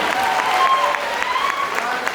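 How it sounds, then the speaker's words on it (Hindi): Applause fills a hall at an RCM business seminar in Greater Noida: dense, steady clapping from a large audience with a voice speaking over it. "जोरदार तालियां, शानदार वाली तालियां, शानदार टेक्निकल एक्सपर्ट के लिए।"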